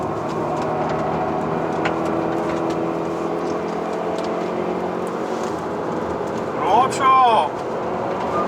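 A car accelerating at full throttle through a corner apex on the Inje race circuit during a driving school lesson, giving a steady, droning engine whine inside the cabin, with a brief higher squealing burst near the end.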